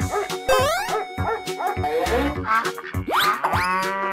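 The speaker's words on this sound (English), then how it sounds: "Dog." A cartoon-style dog barks and yips in a children's animal-sound sequence, a run of short, bright, pitch-bending barks with a whiny tone, loud and close.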